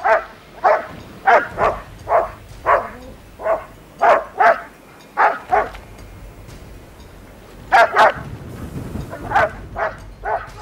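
Sled dogs at an isolated Arctic weather station on Hopen Island bark at a polar bear, a series of sharp, evenly spaced barks at moderate distance, pausing briefly before resuming in a second burst.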